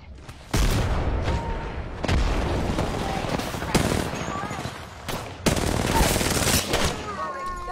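Video game shootout gunfire, repeated loud bursts of automatic weapon fire and sharp booming shots in several clusters, with brief voice chatter underneath.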